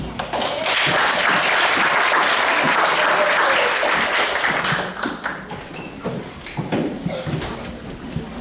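Loud, sustained audience applause for performers at a stage show, dense clapping that swells and holds for about five seconds before thinning into scattered claps and a few taps.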